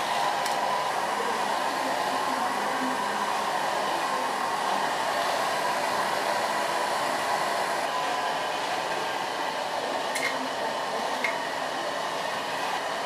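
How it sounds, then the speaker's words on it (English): A hair dryer blows steadily on freshly cut hair during a salon styling session, a continuous, fairly loud airy whoosh holding unbroken for the whole stretch with no talk over it. "I'm going to blow dry it with a nail brush and leave it in the natural lines."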